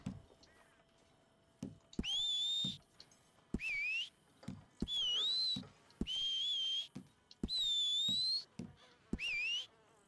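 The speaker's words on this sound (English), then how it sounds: "we're gonna do whistle." Whistling by a character in the Red Dead Online video game, several separate rising whistled tones in bursts over a steady ambient background, fairly loud and clear.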